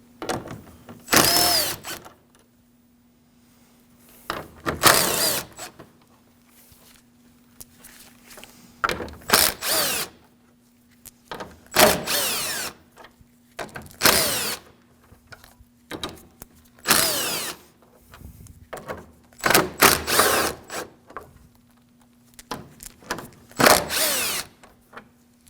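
A power drill spins out 10mm bolts along the top of a Honda Pilot front grille, bursts of whirring that start and stop again and again, close and loud, with quiet pauses between them and no talking.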